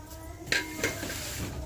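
Tempering spices crackle in hot oil in a pan while cooking egg beetroot fry, a soft steady sizzle with two brief clinks of a utensil against the pan.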